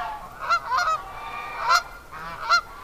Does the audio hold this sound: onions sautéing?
no